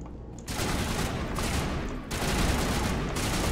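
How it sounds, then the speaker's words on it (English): Gunfire in the video game Mass Effect: dense, continuous bursts of rapid shots forming a loud sustained barrage that cuts in after a brief quiet moment and keeps going. "What are you guys firing at?"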